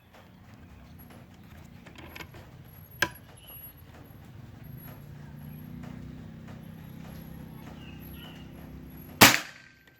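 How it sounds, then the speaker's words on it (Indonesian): A full-CNC Bocap Pajero Gun Gen 5 PCP air rifle with a sonokeling wood stock fires a pellet: a single sharp, loud crack near the end, after a fainter click earlier, over a low background hum. "tembakan keempat."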